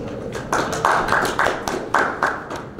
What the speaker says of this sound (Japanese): まずは3選手に拍手をお願いいたします